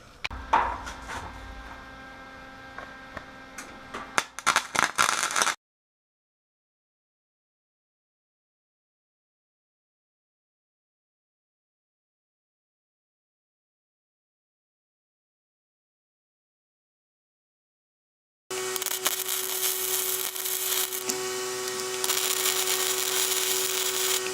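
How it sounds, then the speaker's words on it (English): Filler welds laid with scrap metal on a homemade gravel driveway grader: two bursts of steady, buzzing, crackling arc noise, close and fairly loud, separated by a long stretch of silence. "So I'm going to go ahead and weld this up."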